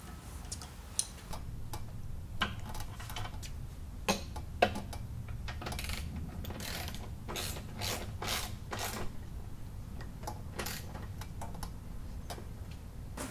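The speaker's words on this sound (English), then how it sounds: "now that we have all those bolts tightened" A ratchet works on motor mount bolts of a Mud Buddy outboard motor, giving a rapid string of light mechanical clicks in bursts, close up and fairly quiet, with no talk.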